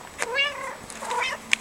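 A cat meows twice close by, two drawn-out, harmonically rich calls separated by a short pause, with a brief sharp click near the end.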